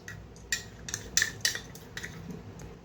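A spoon clinks and scrapes against a bowl while chili powder, turmeric, green chili, garlic and mustard paste are mixed into sour yogurt, giving a few light, close taps and knocks.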